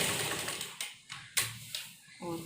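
A sewing machine stitches a blouse in short, rapid bursts, stopping and starting several times at moderate volume, with no talking.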